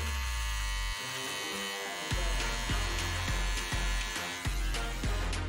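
An electric shaver runs over a beard on the cheek, a close, continuous buzzing drone whose tone dips and shifts in repeated short strokes as it moves across the skin.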